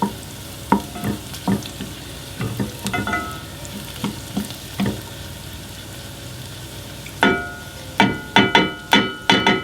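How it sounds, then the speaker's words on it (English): Onions frying and softening in a pan for Greek shrimp a la Spetsiota, a soft sizzle under a string of clinking utensil taps and scrapes that grow quicker and louder toward the end. "that's our onions just softening up"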